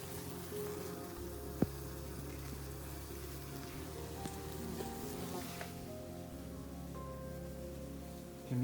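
Common wasps buzzing around a nest under a roof, a faint continuous drone with individual insects passing close now and then, plus a few small knocks.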